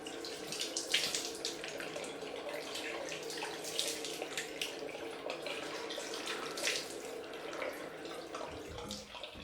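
A bathroom tap runs steadily at a sink to rinse alum off after a head shave, with a soft continuous water flow and faint splashing, close and alone.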